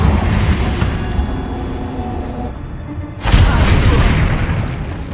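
Confringo spell blast in the video game Hogwarts Legacy: a loud booming burst erupts around three seconds in, over a continuous rumbling game soundscape.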